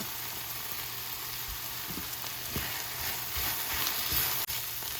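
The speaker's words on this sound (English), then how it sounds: "I'm just cooking it down and scraping the pan," Spinach, artichoke and mushroom filling with seasonings and lemon zest sizzles steadily in a hot pan, a constant frying hiss broken by a few soft scrapes and stirs of a utensil against the pan bottom.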